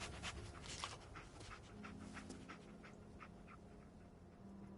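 The dog companion in Fallout 4 pants in quick, rhythmic breaths close by, a soft steady huffing over a low game background.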